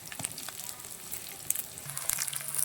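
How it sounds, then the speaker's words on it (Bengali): Sliced onion fries in hot oil for a fish dish, a steady close sizzle with small crackles and pops and no talk over it. "চলছে কিন্তু পেঁয়াজ তেলের মাধ্যমে সিদ্ধ করা"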